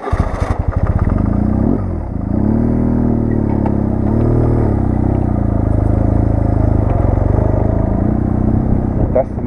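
A BMW GS enduro motorcycle rumbles loudly close by, its engine steady and throbbing as it pulls away on a Greek mountain route, with a brief rev near the start.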